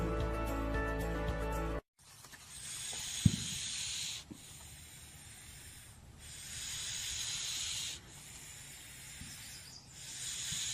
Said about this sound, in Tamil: பாம்பு சீரும்.